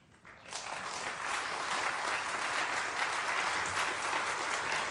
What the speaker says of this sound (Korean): 여러분 나오실 때 박수로 크게 우리 환영하고 축복하겠습니다.